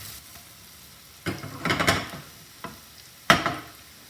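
Garlic sizzles quietly in hot oil for a tarka to top yellow lentil dal, broken by a few sharp bursts of louder spitting and stirring scrapes.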